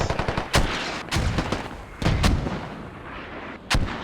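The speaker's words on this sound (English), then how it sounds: "Oh, these mortars are excellent." Mortar fire in a multiplayer military video game: a rapid string of heavy booming blasts, several loud thuds spaced irregularly with rumbling echoes trailing between them.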